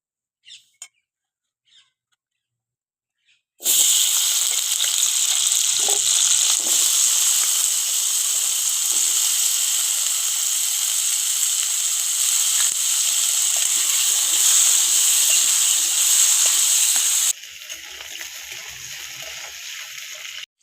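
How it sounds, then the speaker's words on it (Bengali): Potatoes dropped into hot oil in a wok that has just been used to fry fish, bursting into a loud, continuous sizzle that holds steady, then drops to a quieter hiss near the end. "মাছ ভাজা কড়াইতেই দিয়ে দেবো একটু তেল আলুটা ভেজে নেবো"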